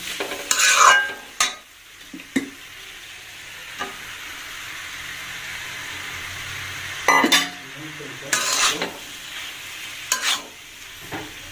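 Cabbage and potato with onion, garlic, ginger and dried chilli fry in a pan, a steady soft sizzle broken by several loud spatula scrapes and clinks against the pan, with faint talk.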